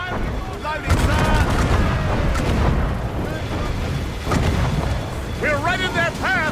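Ship cannon fire and explosions during a naval battle in Assassin's Creed Rogue: dense, loud booms and rumbling blasts layered over background music and shouted voices.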